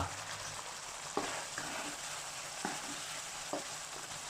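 Squid simmers in sweet soy sauce in a pan as the liquid reduces, a steady close bubbling sizzle broken by a few sharp utensil clicks, with no voices.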